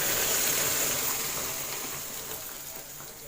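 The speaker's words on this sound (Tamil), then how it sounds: "தேவையான அளவு வந்து தண்ணி சேர்த்துக்கலாம்" Water poured into a pan of brinjal sambar with sautéed onions, a steady close splashing pour that fades slightly toward the end.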